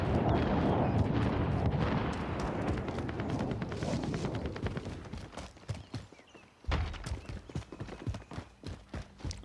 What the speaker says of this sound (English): there's like gunshots blazing from every direction